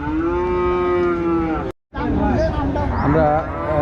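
Bulls at a busy cattle market low and moo in long, loud, drawn-out calls, with a brief gap before more bellowing mixes with nearby voices.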